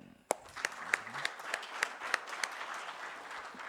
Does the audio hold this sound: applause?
yes